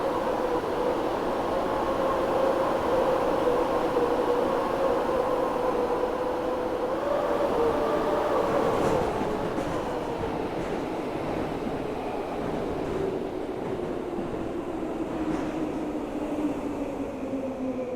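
Class 710 electric train running in Train Sim World 4, a steady rumbling drone of motors and wheels with a whine that shifts in pitch as speed changes, moderate and continuous without talking.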